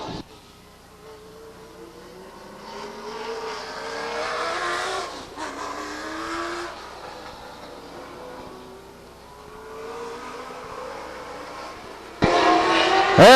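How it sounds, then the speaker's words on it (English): Late model stock cars race at Stockton 99 Speedway, an engine droning and rising as it passes, swelling loud midway then fading before another sharp roar at the end, with no talk. "now on the track in his late model stock car"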